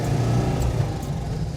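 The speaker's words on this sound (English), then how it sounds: "be a little bit more brutal with the accelerator than I have been, because I forget it's an air-cooled car" An air-cooled Citroen Visa Phase 2 engine drones under acceleration with a low, steady, throbbing hum heard from inside the car.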